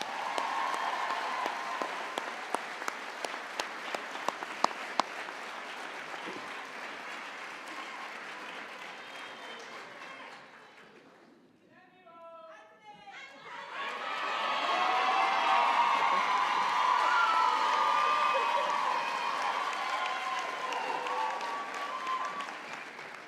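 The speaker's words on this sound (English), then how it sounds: "I'd now like to put your hands together again for our staff" Loud, sustained audience applause for staff at a graduation awards ceremony, fading briefly in the middle with a scattered clap or two before swelling again into a fuller, dense ovation that carries on to the end.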